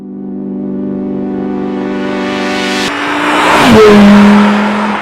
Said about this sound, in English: No, that's a fast car.